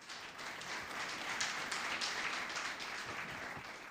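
A church congregation gives a round of applause for Jesus during a sermon, a steady, fairly faint wash of clapping heard alone for several seconds.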